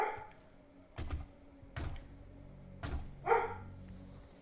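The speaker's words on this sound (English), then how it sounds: "honestly don't know why that dog is barking." A dog barks outside in short separate bursts, several spaced barks at a moderate distance with quiet gaps between them and no talking.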